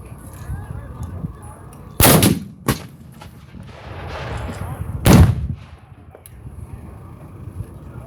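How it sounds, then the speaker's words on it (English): Black rifled cannons firing at a Gettysburg Pickett's Charge re-enactment: several loud booming blasts outdoors, two close together then another a few seconds later, each with a rolling echo, over wind noise. "Now we have the black rifle cannons that can fire accurately at about a mile and a half."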